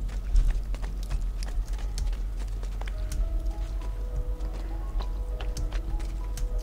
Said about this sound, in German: Das Pferd will einfach nur hinterher und kann nicht hinterherkommen.